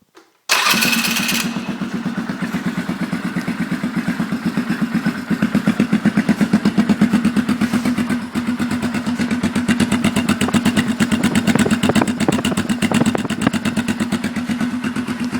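Polaris Sportsman ATV with a modified factory exhaust cranks and fires on a fairly cold start, then settles into a steady, loud, rapid idle thumping close by with no voices.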